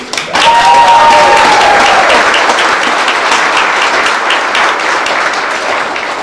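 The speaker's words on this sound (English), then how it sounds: "I want to give you a round of applause from me." A party crowd at a Cinco de Mayo celebration at the Brass Rail gives a full round of applause, steady and loud throughout, with a brief whistle near the start.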